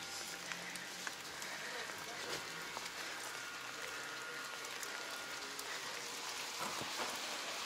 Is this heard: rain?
yes